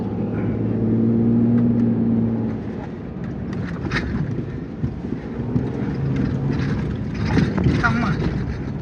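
A vehicle driving on sand at about fifty, with a steady engine drone and wind rumble throughout, while people talk over it.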